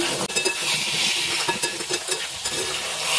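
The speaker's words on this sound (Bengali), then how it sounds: "এটা এখন এদিকে আমি মুগের ডালটা ভেজে নিচ্ছি। এই ডালটা ভাজার সময় আমি কোনো তেল ব্যবহার করব না।" Mung dal being dry-roasted in a pan without oil, with a continuous rustling, scraping stir and a faint dry sizzle as the lentils are moved around close up.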